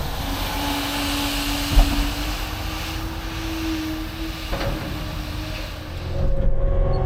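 An excavator scoops up freshly dug dirt on a ditching and grading job, its engine droning steadily nearby, with a couple of sharp clanks from the bucket.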